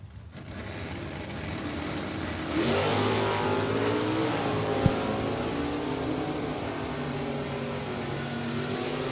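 A 1966 Corvette automatic in Super Stock drag racing roars down the quarter mile, its engine climbing steadily in pitch through the gears, with a loud, sustained, slightly distant roar and a brief sharp crack midway.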